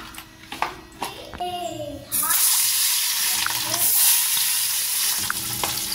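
Hilsa fish pieces rubbed with salt and turmeric fry in hot oil, a steady loud sizzle that swells after a quieter start with clattering and a voice, continuing close and constant.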